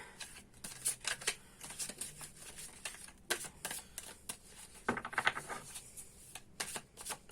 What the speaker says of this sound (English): let's give everything a good shuffle